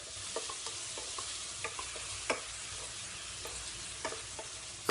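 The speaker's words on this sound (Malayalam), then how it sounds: "നല്ലപോലെ ഒന്ന് ഇളക്കി യോജിപ്പിക്കാം." A spoon stirs salt into sizzling veg chicken korma in a pan, with steady frying hiss under light, irregular scraping clicks and a final louder knock.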